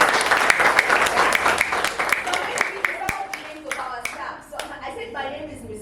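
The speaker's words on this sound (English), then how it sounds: "let's give a round of applause for your principal for allowing us" A school audience applauds the principal during a child sexual abuse awareness session, dense claps filling the first half before thinning out, with voices and a few sharp claps audible toward the end.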